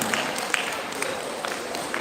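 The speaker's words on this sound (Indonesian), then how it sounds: "Jadi tepuk tangan untuk panitia pesta." Crowd applause for the party committee at a Batak clan new-year celebration (Pesta Bona Taon) in Bandung: steady, moderately loud clapping with scattered sharper claps across the whole stretch.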